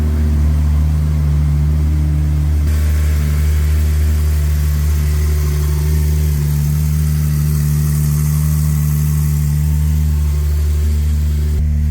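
A car engine runs steadily at idle after starting, a continuous low close-up hum with a slight rise partway through, no voices.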